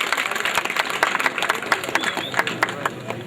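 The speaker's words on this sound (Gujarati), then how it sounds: "તાળીઓના ગળગળાથી આપણે વધાવી લઈએ." Steady applause and crowd noise from an audience at a temple consecration festival, a dense wash of clapping sustained throughout at moderate distance, welcoming a guest.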